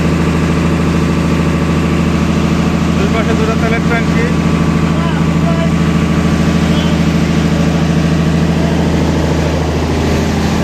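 The engine of the Sundarban 12 passenger launch, crowded with riders on the Jhalokathi route, gives a steady, loud, low idling drone under someone talking nearby the whole time.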